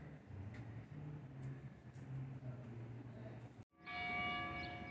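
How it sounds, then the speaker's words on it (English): Church bells ringing from St. Louis Cathedral over Jackson Square in New Orleans, distant, with repeated strokes among outdoor park ambience before a brighter, louder burst of ringing tones at the end. "the church bells here in the park are ringing"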